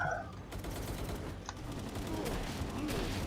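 Gunfire in the Palworld video game, a dense continuous crackle of rapid shots that fills the whole stretch at moderate loudness, mixed with other game noise.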